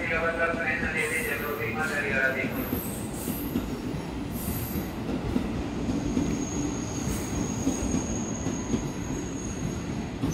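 A KRL commuter electric train rumbles steadily through a busy Jakarta station, wheels squealing near the start over a constant loud roar, with a thin high whine later and station voices faintly in the background.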